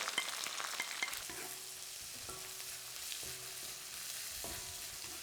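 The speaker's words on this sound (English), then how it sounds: "Then whilst they're sort of sizzling away, they'll take a good sort of 5 minutes." Spices sizzling and crackling in hot oil, a steady close-up frying hiss with occasional faint clinks.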